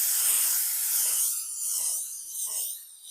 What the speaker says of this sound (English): Let's spray this thing down.